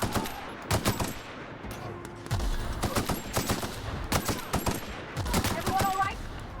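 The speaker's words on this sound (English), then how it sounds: "Fire the grenade launcher!" Rapid bursts of gunfire and blasts from a grenade launcher in the video game The Outer Worlds, sharp repeated shots with a brief voice underneath.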